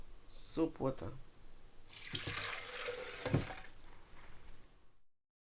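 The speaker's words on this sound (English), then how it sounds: "I have rinsed out the juice with water." Water splashing and swishing while a juice blender jar is rinsed out, with short bursts of running and sloshing water near at hand before the sound cuts off.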